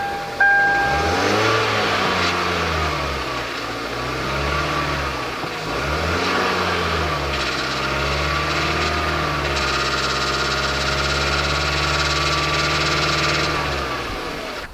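A Kia K5 car engine with an engine fault revs up and down repeatedly, then holds a raised idle around 2000 to 2500 rpm with a rough, uneven drone, loud and close.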